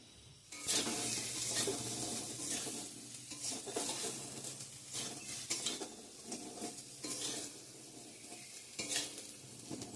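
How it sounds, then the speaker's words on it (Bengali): Potatoes fry in a pan with a steady sizzle while a spatula stirs them, scraping and clattering against the metal again and again throughout, close and fairly loud, with no talking. "এদিকে আমার আলু ভাজাটাও হয়ে গেছে, নামিয়ে নেব"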